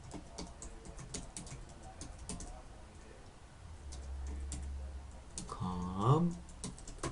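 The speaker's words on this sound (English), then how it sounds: "Let me just type that in here for you." Computer keyboard typing, quick light clicks in short bursts at moderate distance, with a brief voice near the end.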